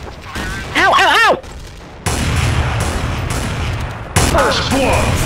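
Counter-Strike: Source gunfire on the awp_dust_temple map, with loud sustained bursts of shots and booms close up, while a player's voice shouts and exclaims over the first stretch and again near the end.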